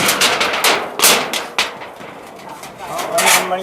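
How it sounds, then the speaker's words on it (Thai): A wooden pestle drives a nail: several sharp, loud knocks in an irregular sequence, close by, with quieter scraping and handling sounds between the strikes. "เอาเอาเอาสากมาตอกด้วยตะปู"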